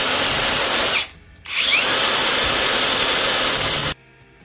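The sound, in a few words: power tool cutting metal stock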